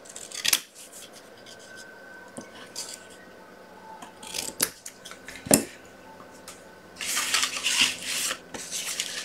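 Scissors cutting paper strips for a handmade wedding card, close crisp snips and slicing strokes at irregular intervals, followed by a longer rustling cut near the end, with no talk.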